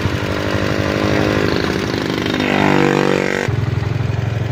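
A motorcycle engine, freshly fitted with new valve seals and tuned up, idles loud and close with a steady low putter, briefly revving higher before settling back.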